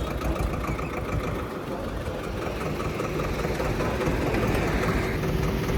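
A farm tractor's diesel engine runs nearby while being driven to a garage, its rough, thumping knock steady and loud for the few seconds heard, with faint background voices.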